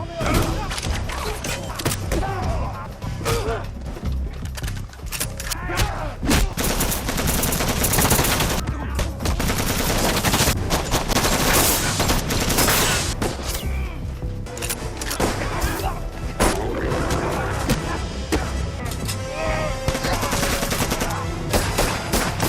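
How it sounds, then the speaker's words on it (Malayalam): Film fight scene gunfire: rapid bursts of shots and machine-gun fire, loud and dense, mixed with thuds and impacts, continuing for the whole stretch alongside dramatic sound effects. "പക്ഷെ അവർ വെടിവെക്കാൻ തുടങ്ങുമ്പോഴാണ് ഡർക്ക് അങ്ങോട്ട് വരുന്നത്"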